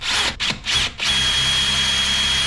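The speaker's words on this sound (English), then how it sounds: "if I line these up with a piece of wood that I'm drilling into, I know that I'm drilling straight" Power drill boring into wood for hanging wall cabinets, a few short stuttering bursts and then a steady loud whine as the bit runs continuously, close up with no talk.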